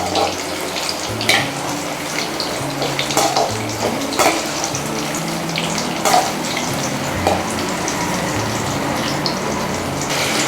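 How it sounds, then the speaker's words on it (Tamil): Slices of elephant yam deep frying in hot oil, a busy bubbling sizzle with scattered sharp clatters and pops throughout, close and fairly loud, with no talk. "இப்போ நம்ம இதில் டீப் ஃப்ரை பண்ணிடலாம்."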